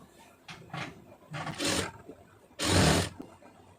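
A sewing machine stitching a garment waistband runs in short bursts with whirring mechanical hum and pauses between runs, close and moderately quiet.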